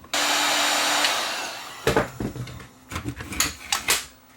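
A heat gun blows hot air onto plastic, a steady loud whooshing roar for about a second and a half that then fades away, followed by a series of clunks and knocks from handling.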